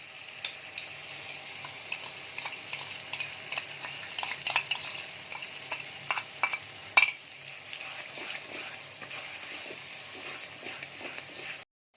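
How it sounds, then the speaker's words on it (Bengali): Masala with tomato sauce for paneer butter masala cooks in a pan, a low simmering sizzle punctuated by repeated spoon scrapes and metallic clinks, close, with no talk, then abrupt silence at the end. "দেখুন এখানে টমেটো সস দিয়ে আমি কষে নিয়েছি"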